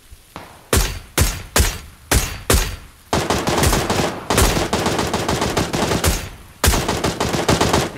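Gunfire in a video game shooter: several single loud shots spaced about half a second apart, then dense bursts of rapid automatic fire with a brief pause before a final burst, close and loud with no talking.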